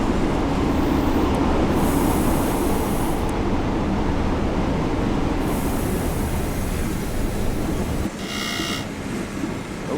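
An ÖBB 1020 Krokodil electric locomotive running in Train Sim World 6 on the snowy Mittenwaldbahn near Garmisch-Partenkirchen, giving a steady loud rolling rumble with a high wheel squeal rising and fading, ending in a short hissing burst.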